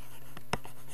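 Handwriting a chemistry rate law equation, heard as one brief, faint scratch of a pen or marker stroke against a quiet background.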